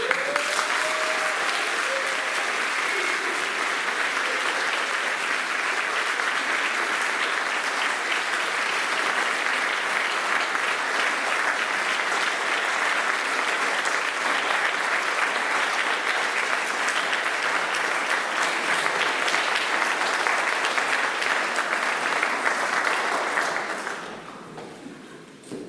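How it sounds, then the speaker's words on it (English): Warm, sustained applause from a school audience at the Oban High School prizegiving, for the head boy and head girl: a dense, even wash of many hands clapping for about twenty-three seconds before fading out. "Could you give a very warm round of applause for James McIntyre and Selena?"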